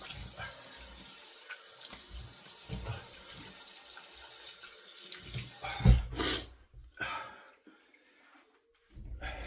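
A bathroom tap runs steadily into a sink as a man rinses his face after a shave, a continuous close water hiss that breaks into splashes near the end before cutting off briefly and resuming.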